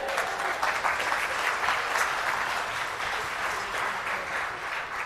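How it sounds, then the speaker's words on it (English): Crowd applause at the EMF 2014 opening ceremony, a sustained wash of many hands clapping, fairly steady and moderately loud with no voices over it. "I'm not sure if that's a round of applause for them or the motorways"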